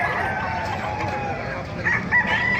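Gamecocks and hens at a Bocaue market stall, with a rooster crowing and chickens clucking close by amid busy background noise.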